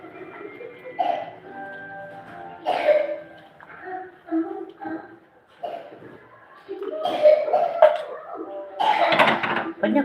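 Several coughs come in separate bursts, some close and harsh, mixed with a person's voice and brief quiet gaps between them.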